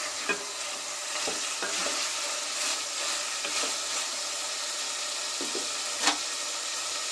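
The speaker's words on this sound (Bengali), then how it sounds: "মাংসটা আমি তেলের মধ্যে ভালো করে ভাজা ভাজা করে কষিয়ে নেব" Chicken pieces fry in hot oil in a pan for a chicken and new potato kosha, a steady close sizzle with stirring and a few sharp scraping clicks throughout.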